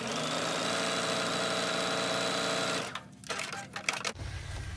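Sewing machine running steadily as it stitches a seam on a zipper pouch, a loud continuous whirring motor hum for about three seconds, then stopping into rustling handling noises and faint clicks.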